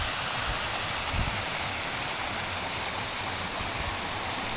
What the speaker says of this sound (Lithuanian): Nu ką, turėjom krioklius.